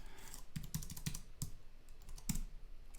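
A few separate keystrokes on a computer keyboard while text is being typed into a web app, spaced unevenly over a quiet room hum. The clicks are soft and close, with no talking.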